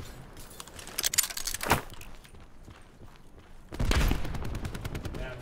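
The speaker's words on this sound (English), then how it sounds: "That's a big gun." Heavy gunfire from a big gun in the battle royale game Black Ops Blackout, sounding as loud crackling bursts early on and again near the end, with scattered shots and faint game noise in between.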